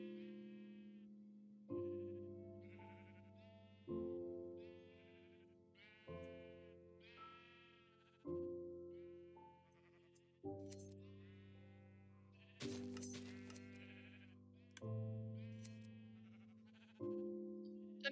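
Sheep bleat in the Minecraft video game, about eight separate wavering calls spaced roughly two seconds apart, each clear, close and alone with no talk.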